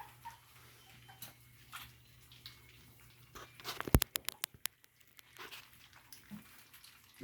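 A 4-week-old puppy named Karma eats and whimpers, with soft scattered wet crunches and small cries and a quick burst of sharp ticking clicks in the middle, all faint and close in a quiet room.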